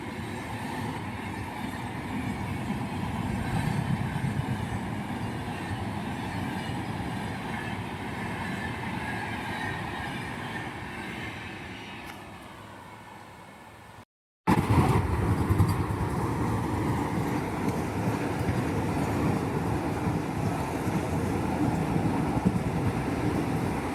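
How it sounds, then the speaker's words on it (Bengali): The Howrah–Kamakhya Vande Bharat sleeper train rumbles past in a long, loud roar of wheels and rushing air, dipping briefly before surging back, close by and continuous with no voices. "Howrah Kamakhya sleeper Vande Bharat train."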